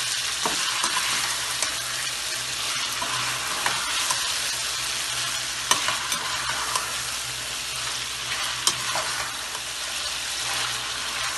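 Chicken leg pieces fry in a karahi with a steady, dense sizzle, while a spoon stirs and scrapes through them now and then, the frying continuous and close for the whole stretch with no talk.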